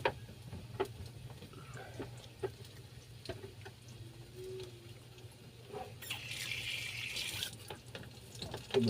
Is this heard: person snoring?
no